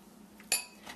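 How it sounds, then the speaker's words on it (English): A small metal spoon gives one bright clink against a bowl while scooping cubed mango, followed by a fainter scrape. "Take a little spoon. Scoop it out into the bowl."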